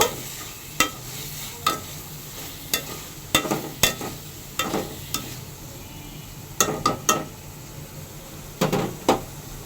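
Masala for egg korma fries with a steady sizzle in a pan while a spoon stirs it, scraping and knocking against the metal in a dozen or so sharp, irregular clinks up close.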